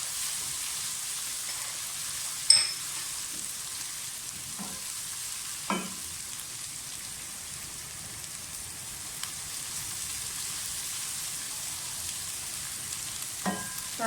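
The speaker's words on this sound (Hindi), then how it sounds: "फ्राई कर लें, सोते कर लें, इसको थोड़ा सा गोल्डन ब्राउन सा कलर आने दें।" Ground garlic and ginger paste fries in hot oil for Punjabi-style kadhi pakora, giving a steady low sizzle throughout with a few sharp clicks and knocks of a spoon stirring the pan.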